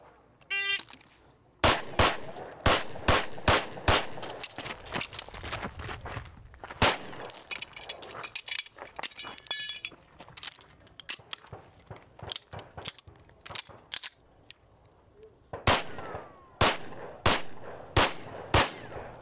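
Competition shooting stage with repeated sharp gunshots in fast strings, loud and close, separated by pauses with mechanical clicks of handling and faint footsteps, no talking.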